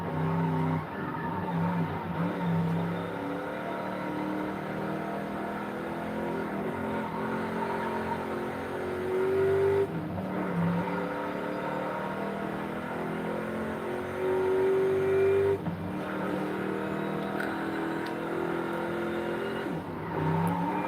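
A truck drives past with a steady rumbling engine and road roar that swells and eases over about twenty seconds, with no one speaking.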